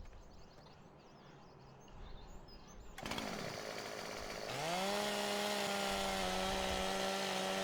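Chainsaw in Farming Simulator 2017 starting up and revving to a loud, steady whine that holds through the second half, preceded by quieter ambient game noise.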